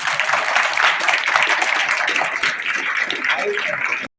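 Audience applause at a closing ceremony of a five-day cartoon workshop, dense and sustained clapping throughout, loud and close, ending abruptly.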